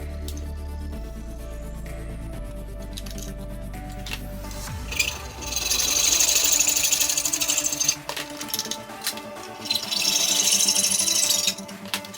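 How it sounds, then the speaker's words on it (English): PVC trunking being trimmed to length by hand, opening with low hum and clicks, then two bursts of rasping, rhythmic cutting strokes separated by a brief pause. "the first thing to do is to trim this piece of trunking down to 350mm"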